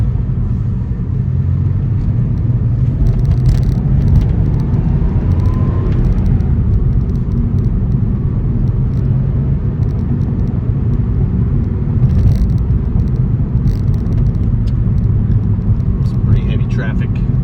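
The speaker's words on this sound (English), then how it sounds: "Entering an on-ramp for interstate driving." A 1993 Porsche 964 Carrera Cabriolet drives up an interstate on-ramp, its engine and road noise forming a steady, loud low rumble throughout, heard from inside the car with speech over it.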